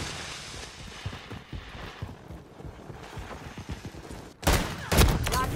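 Gunfire in the video game Call of Duty Modern Warfare 3, bursts of rapid shots and scattered cracks, with a louder cluster of heavy blasts near the end, busy and close.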